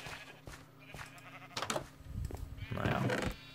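Sheep bleating in the video game Minecraft, with several short bleats rising from a quiet game backdrop, the loudest near the end, while someone talks over them.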